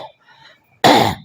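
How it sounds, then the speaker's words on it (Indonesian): A single sharp, loud cough bursts out after a faint pause, from a speaker during a Buddhist dharma lecture; no talk is heard during the cough itself. "saya pun juga ceramahnya diselingi batuk-batuk karena saya juga nggak bisa meninggalkan gorengan juga"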